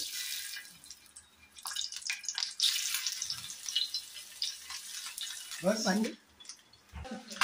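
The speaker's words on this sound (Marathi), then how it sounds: "आता मी एक एक बॉईल फ्राय करणार आहे याच्यामध्ये" Halved boiled eggs sizzle in a pan with a steady, hissing crackle and a few sharp drips and pops; a voice may briefly be heard in the background.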